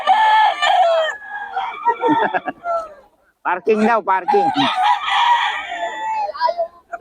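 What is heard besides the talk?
chickens and roosters crowing at a market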